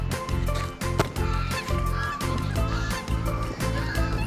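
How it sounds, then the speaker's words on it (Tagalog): Several geese on a beach honk loudly and repeatedly at close range, overlapping calls in an uneven rhythm. "Ang daming gansa."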